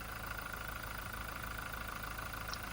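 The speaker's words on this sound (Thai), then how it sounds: "ให้ฟังเสียงเครื่องยนต์" A Toyota Revo 2.4 diesel engine, a 2023 pickup, idles at low volume with a steady, even drone and faint, regular knocking, holding constant with no revving.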